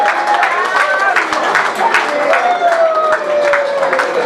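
Wedding guests at a civil ceremony applaud the couple as they take their seats at the head table, a loud, continuous wash of clapping with voices and chatter mixed in throughout.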